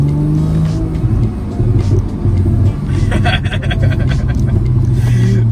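A Porsche GT3 with a Supercup exhaust rumbles and revs loudly and steadily, its deep exhaust note swelling and easing close by.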